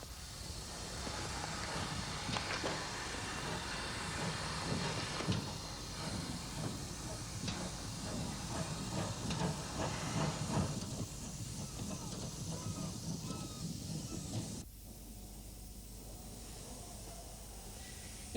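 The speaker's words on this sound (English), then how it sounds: "In Weymouth Harbour, the train had to weave its way around the quayside, with often very little clearance on either side of the train." A steam boat train moves along the quayside of Weymouth Harbour, giving off long, steady steam hiss and faint rolling clatter at a moderate distance before the sound drops abruptly near the end.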